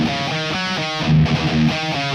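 Electric guitar riff in 7/4 time with a dark, evil-sounding tonality, played as repeated chugging phrases with a galloping rhythm and a low sustained note midway, fairly clean and upfront with no talking.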